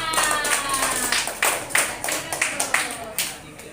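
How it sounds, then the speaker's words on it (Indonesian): A classroom of students claps for a classmate after a reading, a loose burst of separate hand claps close by with some overlapping voices in the room. "Oke, tepuk tangan."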